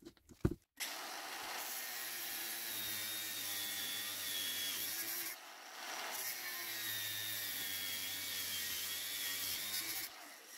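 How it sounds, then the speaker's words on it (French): Angle grinder cutting through the copper wiring of a kitchen range hood, a loud sustained whine in two long bursts with a brief dip between and a short rattle at the start. "je vais choisir la facilité, c'est-à-dire meuleuse"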